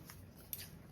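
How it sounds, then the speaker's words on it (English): Scissors snipping through sticky craft paper, a single soft close cut with a brief faint snip, otherwise very quiet. "Now mine's a little sticky when it cuts because I'm cutting through that craft paper that has the sticky."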